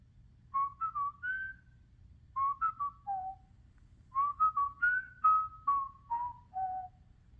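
A cartoonish whistled tune from the Talking Tom cat in a mobile game, in short chirpy phrases, two melodic runs separated by a pause, clear and alone against quiet background.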